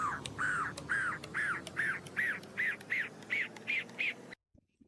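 A pigeon gives a steady series of about ten rhythmic, throaty calls, evenly spaced and fairly close, ending abruptly.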